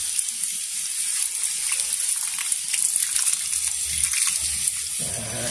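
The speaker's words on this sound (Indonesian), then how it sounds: "Kita siram lagi." Water is poured onto the soil of a banyan bonsai planted in a bucket, producing a steady, continuous splashing gush at close range for several seconds with no speech.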